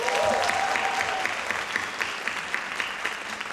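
Audience applause fills a hall at a Sankofa celebration, a steady wash of many hands clapping at full strength, holding level throughout with a brief whistle-like tone near the start.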